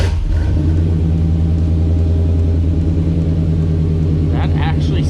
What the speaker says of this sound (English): we're about to get the first fire up with the new muffler on the OBS truck